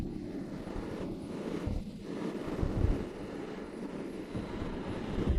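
Honda CB650R motorcycle at full throttle on a highway, heard as a steady low engine drone buried under heavy, rumbling wind buffeting against the rider's microphone, continuous and moderately loud.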